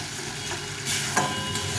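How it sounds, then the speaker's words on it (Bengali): Fish being sautéed in a pan with salt and turmeric powder, with a steady soft sizzle and a few scraping stirs of a utensil. No one speaks. "পরিমাণ মতো লবণ আর হলুদ গুঁড়ো দিয়ে এটাকে ভালো করে কষিয়ে নিতে হবে"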